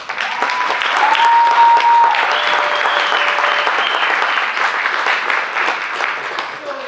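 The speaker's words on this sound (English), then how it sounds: "Give a round of applause." Audience applauding young actors from New Mexico Young Actors as they come out on stage, a steady, loud wave of clapping that fills the room and holds for the whole stretch, with a few stray tones over it.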